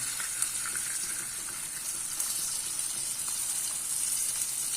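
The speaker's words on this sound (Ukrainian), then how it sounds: "Зараз м'ясо у нас чуть обжариться" Pieces of rabbit meat sizzle steadily in a hot frying pan, an even, dense crackle of fat and juices that stays close and unbroken for the whole stretch, with no voices over it.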